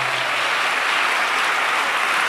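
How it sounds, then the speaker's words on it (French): A studio audience at a Christian television broadcast applauds steadily, a dense, even wash of clapping that holds at the same loud level throughout, with no voices on top. "acclamons pour ce plateau"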